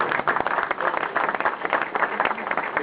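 Audience applauding at a French trading fair lecture, a dense, steady wash of clapping held at even loudness throughout the short stretch, with no voices over it.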